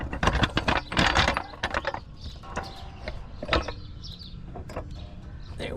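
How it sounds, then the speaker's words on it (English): Floor jack lifting a 2019 Volvo S60: a close series of ratcheting clicks and metallic clanks, busy at first, then sparser mechanical knocks and creaks. "I'm going to jack up from there"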